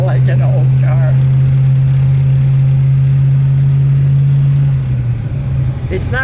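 A 426 Hemi V8 in a 1966 Dodge Coronet Deluxe idles with a deep, steady, throbbing rumble, loud and close, with a few brief voices over it near the start and end.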